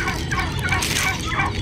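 Pet turkeys gobbling close by, a loud, continuous warbling chorus of overlapping calls filling the whole stretch, with no talk.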